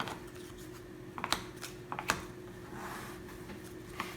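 Orchard Toys game cards being shuffled on a table, soft irregular flicks and riffles with a few sharper snaps, close and quiet over a faint steady hum.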